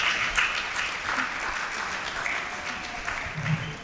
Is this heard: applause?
yes